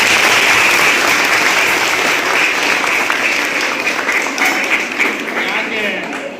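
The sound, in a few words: audience applause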